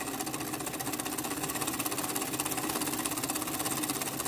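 A homemade oscillating (wobbler) steam engine weighted with lead runs at high speed, giving a fast, even mechanical chatter of rapid ticking strokes, steady and fairly close throughout.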